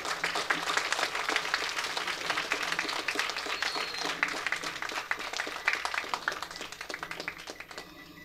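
Audience applause at a film trailer launch in an indoor hall, steady dense clapping from many hands throughout, close and lively, tapering slightly near the end.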